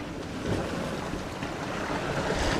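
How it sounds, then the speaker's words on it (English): Waves of a lumpy beam sea heard aboard a small sailboat in thick fog near the Arctic Circle, a continuous loud rushing wash mixed with wind noise, no voices. "apart from thick fog we also have a lumpy beam sea"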